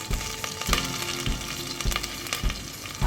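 Mustard seeds, cardamom, cloves and green chillies crackling and sizzling in hot oil, close and steady with sharp repeated pops.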